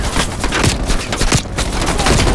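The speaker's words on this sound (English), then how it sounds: "Heavy MG on the ridge." Heavy machine gun fire rattles from a ridge in Call of Duty Black Ops Cold War, a dense, loud burst of rapid shots mixed with booming impacts, close and continuous.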